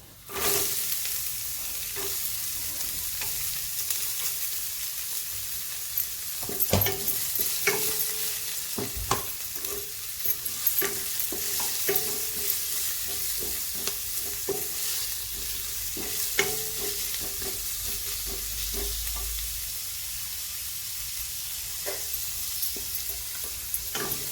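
Chopped onion frying in a pan for a radish vegetable dish, a steady, close sizzle that lasts throughout, broken by sharp scrapes and taps of a stirring spoon, with no talking.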